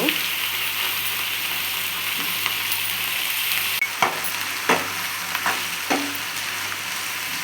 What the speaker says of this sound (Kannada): ಇದು ಲೋ ಫ್ಲೇಮಲ್ಲಿ ಒಂದು ಐದು ನಿಮಿಷ ಬೇಯಿಸಿದ್ರೆ ಸಾಕು